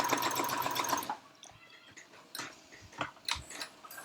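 A sewing machine runs a long gathering stitch at maximum stitch length on fabric, a steady close mechanical whir that stops after about a second, followed by scattered clicks and handling noises.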